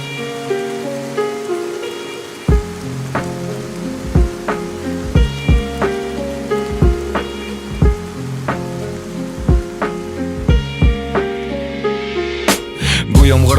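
Steady rain hiss runs beneath a song, behind plucked melodic notes and regular, punchy percussive beats that strike every half second or so throughout.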